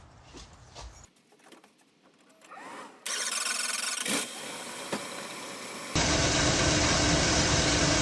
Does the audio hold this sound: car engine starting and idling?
yes